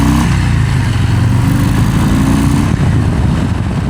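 A Harley-Davidson Low Rider S with a Milwaukee-8 engine runs while being ridden, a steady deep throbbing rumble with wind noise, loud and continuous throughout.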